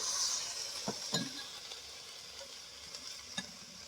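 Spices and chopped tomato sizzle steadily in a frying pan while a spoon stirs them, with a few soft clinks against the pan; no talking.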